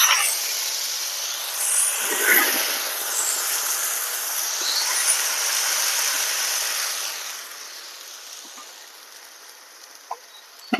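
Onion paste frying in hot mustard oil with whole mustard seeds, cooked for an egg curry: a steady, broad sizzling hiss that holds for most of the stretch, then settles quieter near the end, with no one talking.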